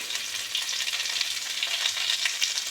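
Cumin, coriander, ginger paste and chili powder fry in hot oil in a wok, giving a continuous close, hissing sizzle with a slight crackling flutter and no voices.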